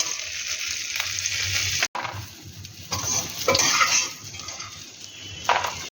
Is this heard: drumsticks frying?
yes